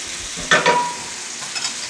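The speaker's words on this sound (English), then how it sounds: "The onions are just going to sweat. They're going to release a lot of their water." Chopped onions sweating and sizzling in a frying pan for a low-carb keto frittata, a steady close hiss with a brief louder burst of stirring partway through.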